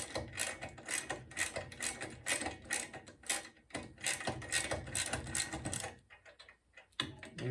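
A half-inch ratchet clicks rapidly and repeatedly while loosening a bushing on the flywheel of a Sole E35 elliptical, close up, in quick bursts with a short pause near the end.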